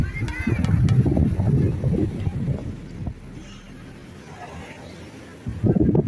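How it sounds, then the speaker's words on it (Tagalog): Strong wind at Dolomite Beach on Manila Bay buffets the microphone in low rumbling gusts, easing midway before surging again, with faint background noise in between. "Napaganda, napakalakas ng hangin."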